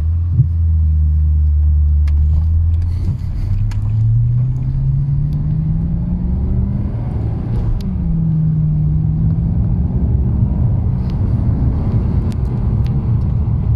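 A Maserati GranSport pulls away in first gear in sport mode. Its engine gives a loud, deep, continuous rumble that rises in pitch as the car accelerates, dips briefly, then climbs again, with no talk.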